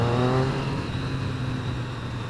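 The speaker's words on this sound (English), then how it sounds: "I might wind it up a little bit, just once or twice maybe, just so you can hear it." A 2015 Triumph Street Triple RX with its stock exhaust revving, a steady engine drone with a brief rise in pitch early on that then settles, close and fairly loud.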